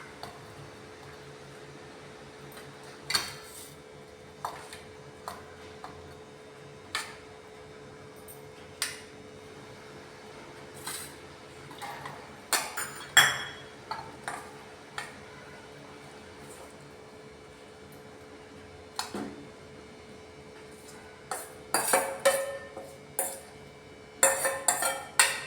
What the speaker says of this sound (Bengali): দুটো বাটিতে ভাগ করে নিচ্ছি।